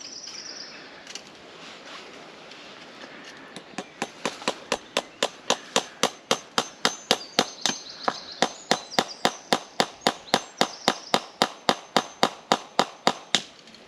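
Sharp metallic hammer blows drive something into wood, beginning slowly then settling into a fast, even rhythm of about three strikes per second that carries on for around ten seconds, crisp and close with birds faintly behind.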